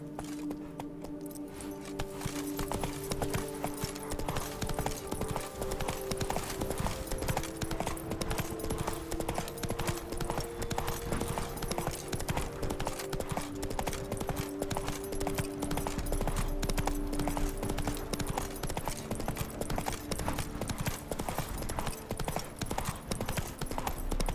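Horse hooves gallop across open ground in The Witcher 3 with a fast, steady clip-clop rhythm that carries on throughout, close and fairly loud, over faint game music and ambience.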